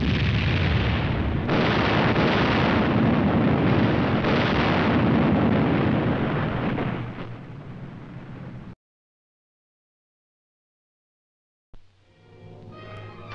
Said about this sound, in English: such as this napalm drop in a saturation firebombing test